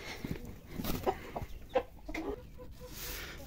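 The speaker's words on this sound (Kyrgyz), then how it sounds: "Тооктор" Chickens cluck and squawk close by at a farm, a busy run of short overlapping calls with no one talking.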